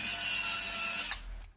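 Power drill boring into the reclining seat mechanism of a Simca Aronde Plein Ciel: a short, whining high-pitched spin that holds for about a second, then cuts off abruptly, close and moderately quiet.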